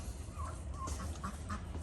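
A few backyard ducks quack several times at close range, short nasal calls over a low background hum.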